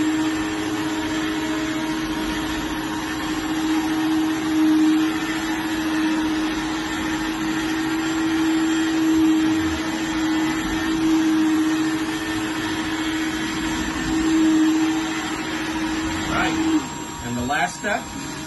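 A carpet cleaning machine rinsing carpet during pet stain removal, a steady loud motor drone with a constant whine that runs throughout, with a change in tone near the end.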